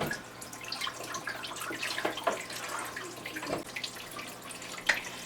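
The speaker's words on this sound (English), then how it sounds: "I'm just going to pour that right in our water." Dark hydroponic nutrient solution, a messy black goo, is poured into a reservoir of water for a hydro garden system, giving a soft, steady trickle and splash with small drips, close by and with no talk.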